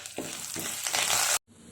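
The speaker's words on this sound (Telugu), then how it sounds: "పోపు కూడా వేగిపోయింది" Mustard seeds, chana and urad dal, dried red chillies, curry leaves, garlic and green chillies crackle in hot oil as a tempering, a dense steady sizzle with a few stirring bursts, cutting off abruptly near the end before a quieter hiss resumes.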